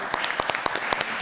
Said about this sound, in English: Let's give you applause.